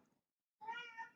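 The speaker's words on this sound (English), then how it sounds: "that's my cat meowing." A single cat meow, clear and fairly close, with a short quieter sound before a brief pause, no talking.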